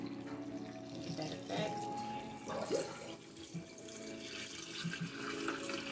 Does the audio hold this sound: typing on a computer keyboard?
no